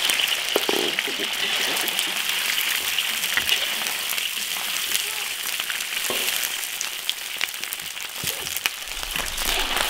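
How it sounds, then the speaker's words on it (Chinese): Eel stir-frying in oil in a hot iron wok, a steady loud sizzle with crackling pops that runs unbroken throughout, with some speech over it. "鳝鱼下锅炒。"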